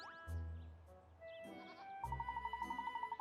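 A goat bleating in the video game Layton's Mystery Journey: Katrielle and the Millionaires' Conspiracy, a short bleat followed by a longer, rapidly trembling one, close and fairly quiet over soft background music.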